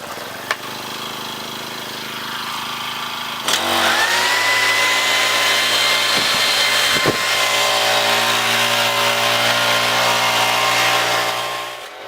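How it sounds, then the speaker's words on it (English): A Honda VersAttach 35cc power head fitted with the blower attachment runs steadily and loud up close, its engine rising from a lower drone to a higher, sustained roar that holds before easing slightly at the end. "connecting the blower attachment to the power head. The switchover took less than a minute and I was quickly up and using the blower with minimal effort"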